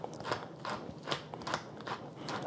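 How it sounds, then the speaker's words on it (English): Black pepper is ground in a pepper mill, giving a rhythmic series of close, gritty crunching twists, about six strokes in quick succession without any talk. "We're going to grind about a 1/4 teaspoon of black pepper."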